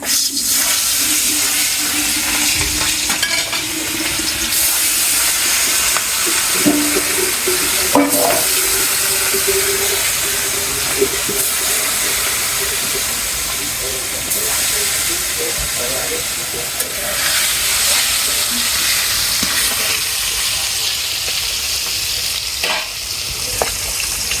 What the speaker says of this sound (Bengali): এখন তেল দিমু মাছ